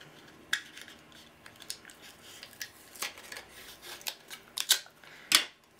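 Post-it tape for card making is handled close by, giving a series of faint, sharp ticks, peels and crinkles at irregular intervals, with no talking.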